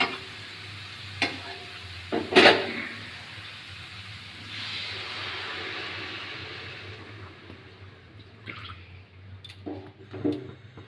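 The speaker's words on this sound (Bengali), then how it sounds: "গ্রেভিটা ফুটে এসছে" Potato and prawn curry gravy simmering in a pan, a faint continuous sizzle and soft bubbling with a few sharp clicks and utensil knocks, quiet and close, no talking.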